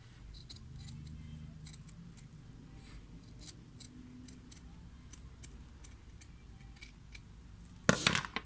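Close, quiet scissor snips trim the bottom off a plant-pot craft design in a steady series, ending with a brief louder rustle or clatter.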